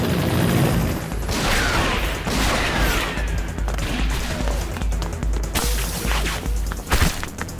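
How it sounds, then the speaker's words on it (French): Gunfire erupts during a police arrest attempt in a French-dubbed Spider-Man cartoon, a dense crackling barrage of shots with booming impacts and sharp whip-like cracks running loud and continuous throughout. "Il nous tire dessus"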